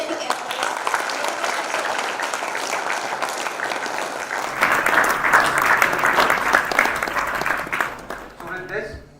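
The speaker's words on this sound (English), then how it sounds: "let's once again applaud all the participants for their outstanding efforts" A crowd at a college agricultural festival applauds participants, steady dense clapping throughout, swelling louder midway before tapering off at the end.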